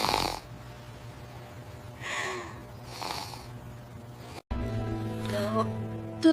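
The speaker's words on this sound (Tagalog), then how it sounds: "Malakas po ba ang hilik ko?" Slow snoring breaths rise and fall about once a second, a rhythmic rasping close by, followed by a brief break and some clattering noise.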